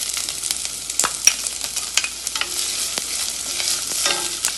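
Onion and garlic sweating in hot oil in a pot, with a constant bright sizzle close up and frequent spoon scrapes and clicks against the pot.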